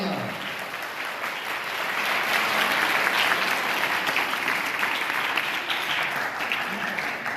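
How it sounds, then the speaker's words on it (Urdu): Church congregation applauding loudly for Jesus during an Urdu sermon, a dense sustained roar of many clapping hands that swells early and holds steady to the end. "اس یسوع کے لیے ذرا زوردار تالیاں"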